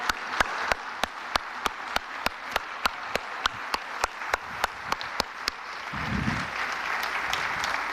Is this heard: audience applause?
yes